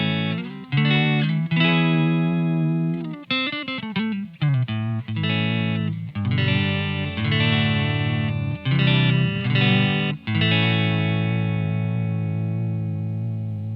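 Electric guitar played through a VFE Junior Phaser pedal with its mix control turned fully up, giving strummed chords and short riffs a strong sweeping, swirling phase effect, loud and close with no talking.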